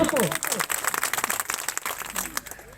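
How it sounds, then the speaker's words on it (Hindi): Applause rises from the audience at a business event, dense clapping mixed with voices and an announcer speaking over it, loud and close throughout. "एक बार और दिल की गहराई से जोरदार तालियां हो जाए।"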